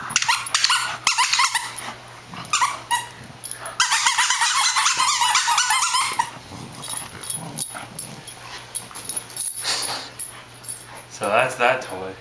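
A dog plays with a plush octopus toy that has a large squeaker plus a squeaker in each foot, giving repeated squeaks, whimpers and a few barks and growls up close, mixed with a person talking.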